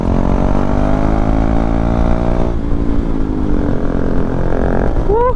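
KTM 390 Duke motorcycle carving through twisty roads, a loud, close single-cylinder engine note with steady harmonics that dips and rises as revs change between corners, ending in a brief high-pitched whine.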